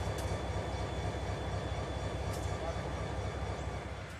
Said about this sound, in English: The Chessie Jeep 40 had come south out of New York several days before and was apparently pressed into maintenance of way service